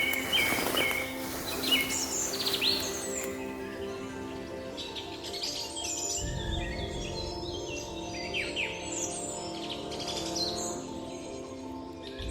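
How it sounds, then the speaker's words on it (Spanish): Birds chirp and trill with whistled calls in the Amazon rainforest canopy, layered bright songs over a soft background hum, fairly faint and distant, with no clear monkey cries standing out. "en las copas se oyen los gritos de los monos y el canto de los pájaros"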